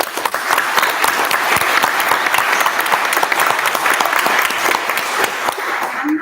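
Sustained round of applause from an audience at an annual awards celebration, dense and loud clapping filling the room steadily for several seconds.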